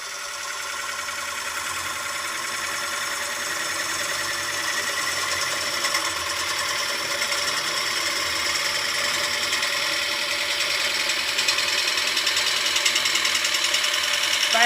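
A wood lathe spins while a gouge shapes an ogee curve, a steady hissing, scraping whir of moderate loudness that holds unbroken throughout, with no talking.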